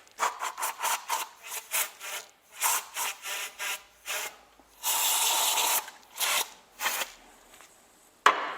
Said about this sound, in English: I want to give this a hit of some compressed air.